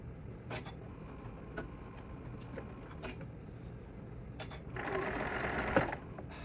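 A sewing machine stitches and tacks a beginner's sling pouch, running in short bursts and then a longer, louder, steadier run toward the end, close by with no talking.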